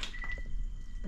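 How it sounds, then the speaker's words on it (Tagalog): A faint, brief drip of water in an old abandoned cemetery, a few soft splashy ticks over a low background rumble. "Parang may tubig na nahulog ba?"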